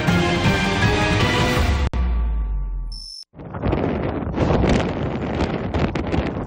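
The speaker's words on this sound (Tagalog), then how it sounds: "dinig na dinig ang tila dagundong ng malakas sa hangin" Strong typhoon-like wind roars and buffets the microphone with heavy rumbling gusts, briefly cutting out before blasting back in loudly, in Camarines Norte, Philippines.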